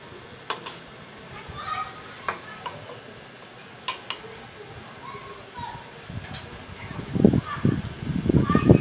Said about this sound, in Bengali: এখন এই অবস্থাতে আমি ঢাকনা দিয়ে আরও কিছুক্ষণ রান্না করব